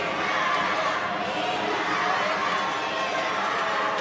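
Crowd at a Milano wheelchair curling match between Great Britain and Italy, a steady wash of cheering and chatter with scattered laughter, filling the whole stretch at an even level.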